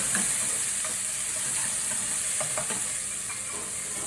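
Meat for çökertme kebab sizzles loudly in a hot pan over a strong fire, a dense continuous frying hiss with occasional pops and stirring scrapes, close and without talk.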